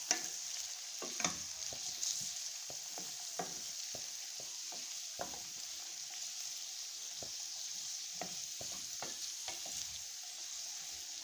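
Mixed vegetables fry in a pan with a steady soft sizzle, broken by repeated scraping clicks of a utensil stirring them, close and fairly quiet throughout.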